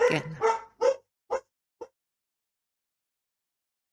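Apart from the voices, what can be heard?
dog barking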